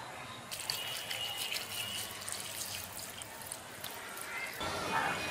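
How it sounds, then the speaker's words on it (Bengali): Water poured into a bowl of small river fish mixed by hand, a faint running trickle and splashing, close, with a brief change in the pour near the end. "মেখে নেওয়া হয়ে গেছে, এখন আমি জল দিয়ে দিচ্ছি।"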